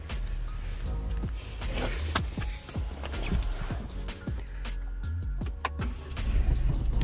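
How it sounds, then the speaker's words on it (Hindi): A Ford EcoSport diesel engine running at idle with the bonnet open, a steady close low rumble with scattered light clicks and knocks, no talking. "तो ये कार हो चुकी है स्टार्ट।"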